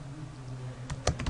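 Typing on a computer keyboard while entering Cisco router commands, a few quick close key clicks arriving in a short burst near the end over a steady low room hum.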